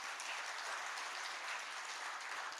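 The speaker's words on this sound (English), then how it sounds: "I would appreciate if all of you can give a big clap to the team that has actually prepared" Steady, faint applause from a gathering honouring a team, a continuous even patter of many hands clapping with no pauses.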